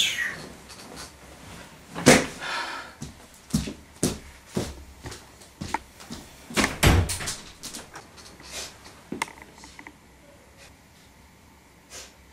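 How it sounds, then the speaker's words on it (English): Knocking on a door, heard as scattered sharp raps in irregular bursts over several seconds, fairly close and loud at first, then thinning out and fading toward the end. "someone is knocking at my door"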